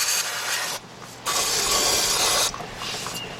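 Two bursts of hissing spray from an aerosol cleaner can through a straw nozzle on a 2007 Nissan Murano 3.5, the second longer, separated by brief pauses with faint mechanical handling noise.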